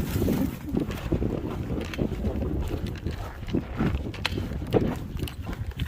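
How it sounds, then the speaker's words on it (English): Strong gusting wind buffets the microphone on an open hiking trail, loud low rumbling roar swelling and easing in irregular blasts with no pause. "And this wind is not cool"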